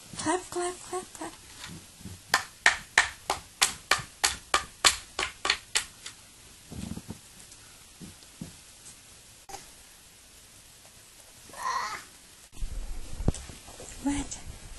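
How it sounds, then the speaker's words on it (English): A burst of rapid, sharp hand claps in quick succession, loud and close, followed by scattered softer sounds and brief talking. "Clap, clap, clap, clap."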